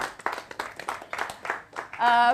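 An audience at a start-up accelerator event claps in a brief burst, uneven hand claps close together and fairly loud, ending as a held tone cuts in.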